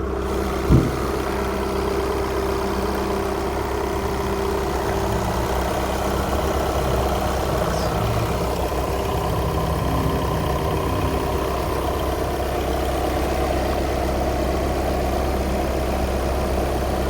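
A SEAT Leon 2.0 TDI 150 diesel engine idles steadily, a low, even rumble that holds at the same level throughout with no revving, heard up close and alone.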